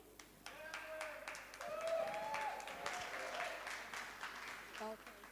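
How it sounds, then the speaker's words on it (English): Audience at a Jamaican culture celebration applauding a well-being drumming team, steady moderate clapping with scattered sharp claps, a faint voice and a brief tonal sound near the end. "Can we have a louder hands of applaud for Chester"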